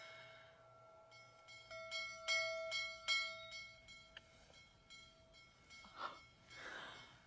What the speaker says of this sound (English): It's probably the dinner bell.